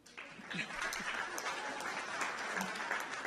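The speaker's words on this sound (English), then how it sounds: "Great, round of applause." Brief, moderately faint audience applause at a presentation, a steady wash of clapping lasting a few seconds with some murmuring voices mixed in.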